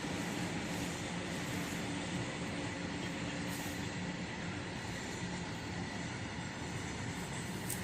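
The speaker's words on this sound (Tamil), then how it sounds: "நம்ம தோட்டத்து பக்கத்துலேயே ட்ரெயின் போகுங்க" A train rumbles past a farm at the foot of hills, continuously, with a broad roaring wash of wheels on rails and faint clatter, steady and fairly close, no voices.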